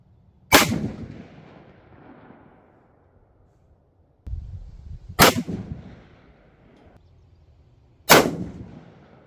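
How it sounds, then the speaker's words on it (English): Three loud, sharp rifle shots from a brand new barrel, spaced a few seconds apart, each followed by a rolling echo that fades away, with no voices. "First 5 shots of a brand new barrel."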